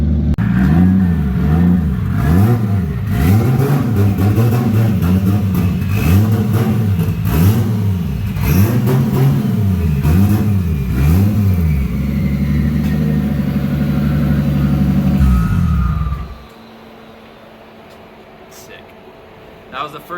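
A Toyota JZX100 engine revs hard in a repeated rising-and-falling pattern through a burnout and donuts in a doorless car, loud and close for about fifteen seconds before cutting to a quiet idle-like hush.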